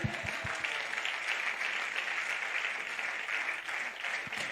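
A church congregation applauds in a steady, dense wash of clapping that runs through the whole moment, fairly loud and even, with no voices breaking through.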